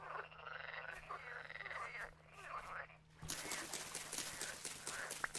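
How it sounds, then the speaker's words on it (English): Loud frogs in a video game, a dense chorus of close croaks that grows busier and more rapid partway through, with no voices. "Why are frogs so loud?"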